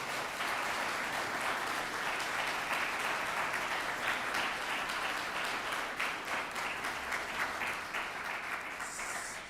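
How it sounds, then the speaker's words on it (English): Sustained applause from a large crowd at a graduation ceremony fills the room, steady and even for several seconds before starting to taper off. "Let's take a moment to give them a round of applause and appreciate them."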